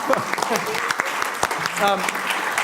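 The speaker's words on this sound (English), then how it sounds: "Oh, you can clap." Brief applause from a church congregation, clapping scattered under talk and a few voices, moderately loud across a few seconds.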